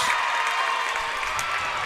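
Basketball crowd at a Davis varsity home game against Lindsay, cheering steadily as a broad, continuous roar with no single standout burst.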